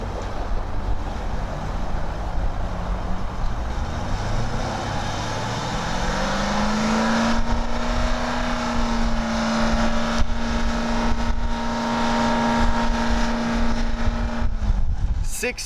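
A 6.4-liter V8 car engine idles and then revs from about 15 meters away during a police decibel test, its rising tone settling into a steady drone under outdoor noise.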